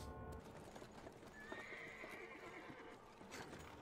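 Horse carriage hooves clop steadily on a hard road beneath a dense, noisy backdrop in the horror game Amnesia: The Dark Descent, with a horse whinnying briefly in the middle.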